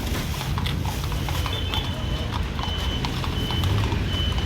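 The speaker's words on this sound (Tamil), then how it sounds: "அங்கே பாருங்க குதிரை வண்டியை." A horse cart rolls along a road in Kodaikanal, its hooves clip-clopping in a quick, even rhythm over traffic rumble, with a faint thin beeping tone mixed in.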